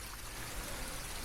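A creek flows through a small, deep canyon in the woods, giving a steady, broad rushing wash of water that stays continuous and even throughout, with no voices.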